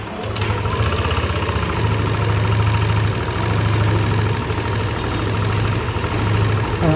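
A Yamaha NMAX/Aerox scooter, being checked for an Error 12 fault, starts up and settles into a steady, close idle. The engine note is a continuous low chug with a slight rhythmic pulse and no talking.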